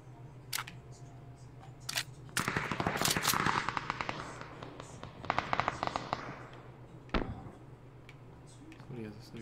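Tommy gun fire in PUBG, several bursts of rapid automatic shots, some close and some farther off, broken by short pauses, with a low game hum and occasional talk.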